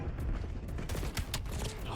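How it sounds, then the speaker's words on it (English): Rapid bursts from an RK9 burst-fire SMG in Black Ops 7 crackle through a busy game mix, several short clusters of close gunshots packed into two seconds with mechanical clatter behind. "I seem to remember it's the burst fire SMG, and I don't just run around holding the trigger down"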